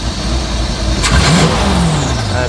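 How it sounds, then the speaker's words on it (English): An old outboard-style boat engine, obtained for free after long sitting idle and smoking, revs up sharply then falls away, loud and close with a steady running drone underneath. "you can't rev an engine with it sitting that long"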